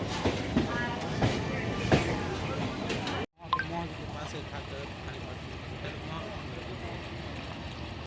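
A Digha local passenger train runs along the track on the Santragachi to Kanthi route, a steady rumbling rattle of wheels and carriages with a brief drop near the middle, while people talk over it throughout.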